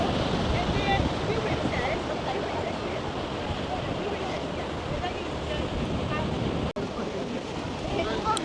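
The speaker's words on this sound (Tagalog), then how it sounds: "Ang lakas ng alon." Strong ocean waves surging and crashing near the shore in Taiwan, a continuous rough roar with heavy wind buffeting the microphone and a brief dropout partway through.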